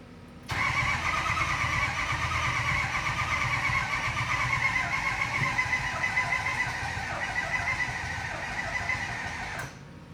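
A 6.0 Powerstroke diesel engine that sat in the weeds for half a decade cranks over continuously for about nine seconds, a steady, close, even churn that starts and stops abruptly without catching.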